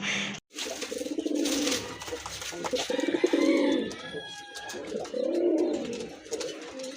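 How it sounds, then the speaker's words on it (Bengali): Pigeons of fancy breeds kept for sale coo close by in soft, throaty rolling phrases that repeat in several bursts, with faint chirps and background noise between them. "দেখেন আরেক জোড়া কবুতর"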